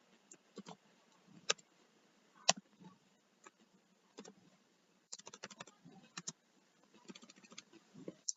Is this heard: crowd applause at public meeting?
no